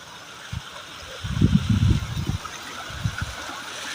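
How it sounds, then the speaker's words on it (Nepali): Splashing water from a fountain at Box Park, a steady wash of falling water with a few louder gurgling surges in the middle, heard close outdoors. "यो चाहिँ वाटर फाउन्टेन पनि रहेछ"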